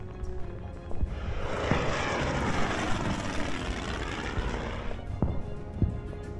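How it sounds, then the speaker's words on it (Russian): Aircraft engine droning in the World War II strategy game Order of Battle: Pacific, a steady broadband propeller roar that fades in and holds for several seconds with small clicks over it. "этот самолет оснащен торпедами"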